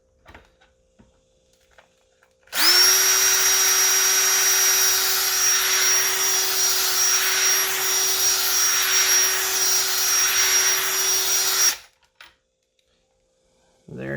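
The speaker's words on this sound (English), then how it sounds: "I'll be holding onto that with a nice good grip and getting the drill onto this." A power drill spins up with a rising whine and runs steadily for several seconds while removing hardware from a pinball machine, then cuts off, leaving near silence.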